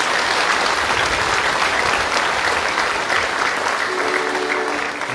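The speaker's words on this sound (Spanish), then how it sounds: "Un aplauso al Señor" A congregation applauds at a patronal feast Mass honoring the Señor de la Columna at the Rancho El Limón church. Dense, sustained clapping fills the space at steady volume from start to finish.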